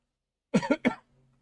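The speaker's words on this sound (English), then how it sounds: "Joey hair is getting in my throat and making me cough" A short burst of three quick, close coughs from someone with hair caught in the throat, followed by quiet.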